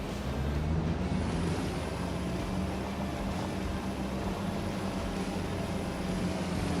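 A truck engine in Farming Simulator 25 hums at a steady, even drone with a faint high whine on top, running continuously without speech.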